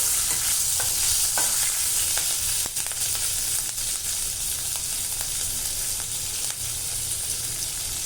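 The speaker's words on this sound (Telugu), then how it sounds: "ఒక రెండు ఎండుమిరపకాయలు ఒక బేలీవు జీలకర్ర వేసుకొని చక్కగా మంచి స్మెల్ వచ్చే వరకు వేయించుకున్నానండి" Dried red chillies, a bay leaf and cumin seeds fry in hot oil, giving a continuous close sizzle with occasional stirring scrapes and no speech.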